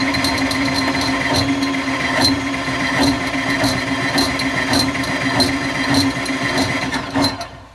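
A drain snake cable spins inside a hotel kitchenette sink, giving a continuous motorized whir with rapid rhythmic ticking and scraping clicks as the cable flicks against the pipe, loud and close.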